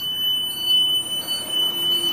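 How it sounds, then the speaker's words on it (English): A school bus emergency door buzzer sounds as a steady, continuous high electronic tone inside the bus, loud and unbroken, with no talking. "when we open our emergency door, the emergency lights and buzzer should come on."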